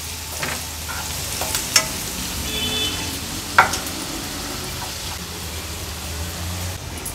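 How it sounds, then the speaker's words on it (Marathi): Chopped onion fries in a pan over a low gas flame, giving a soft, steady sizzle with gentle stirring and two sharp clinks of a spoon against the pan, close and without voices. "आता कांदा आपल्याला छान शिजवून घ्यायचा आहे। थोडासा हाय फ्लेमवर परतून झाला का गॅसची फ्लेम मी लो करते"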